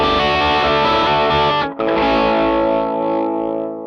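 Electric guitar played hard through a Gokko Salem Boost pedal, a sustained, driven chord ringing loud and close, briefly cut off near the middle and then struck again to ring out.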